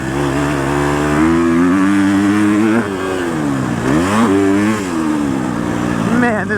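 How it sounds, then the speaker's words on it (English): Husqvarna FC250 dirt bike engine revving while riding a track, a loud, close engine whose pitch rises and falls repeatedly as the rider works the throttle, running continuously throughout. "Man, this bike is sweet though."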